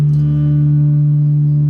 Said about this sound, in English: So this is the sound of the sharp 4.